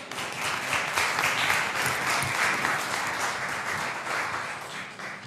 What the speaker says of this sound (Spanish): Un aplauso para los dos grupos.